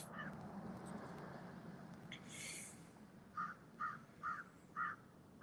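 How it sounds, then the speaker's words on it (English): Crow-like birds caw outdoors in a rapid run of four loud, evenly spaced calls, following a quieter stretch of steady background hiss and a brief rustle. "I'm gonna let the birds chirp."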